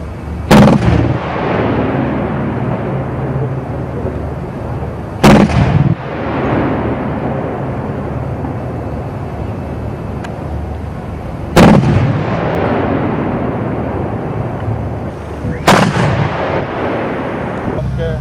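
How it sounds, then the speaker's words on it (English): A ZSU-23 23mm anti-aircraft gun fires direct in Ukraine, heard from a distance as four sharp, heavy shots or short bursts spaced several seconds apart. Each one booms loudly and leaves a long rolling echo, with faint background noise between them. "But here's another video of the ZSU firing."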